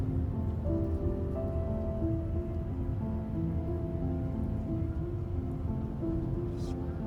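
Light rain falling on a cloudy, chilly day at a roadside lookout near Badlands National Park, a steady soft patter under a low rumbling hum, with no talk.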